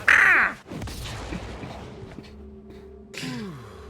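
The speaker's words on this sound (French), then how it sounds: "Il est bruyant cet oiseau." A loud, shrill bird cry from a competitive esports match rings out near at the start with falling pitch, followed by quieter game effects and a shorter descending call near the end.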